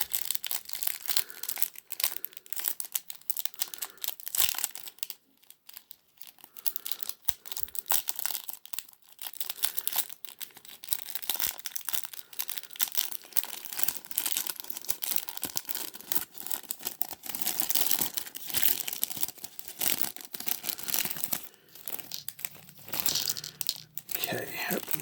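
A small plastic bag holding the accessories for a Joytoy Tie Zha 1/18 scale action figure crinkles and tears in steady close-up handling, with faint rustles and crunches throughout.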